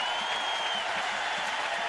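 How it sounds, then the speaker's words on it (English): A stadium crowd at a Clemson versus Ball State college football game applauds and cheers in a steady, dense wash of clapping for a player. "listen to the crowd. They give this young man a great hand."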